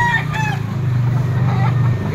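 Young roosters (stags) crowing and clucking at a busy poultry auction market in Lipa, a loud crow near the start over a dense, constant murmur of fowl and crowd noise.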